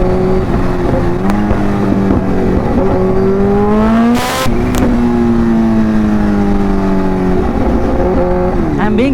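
Kawasaki Ninja H2 motorcycle engine revving loudly up close, rising and falling tonal engine pitch sweeps with a brief sharp burst midway, steady and continuous throughout.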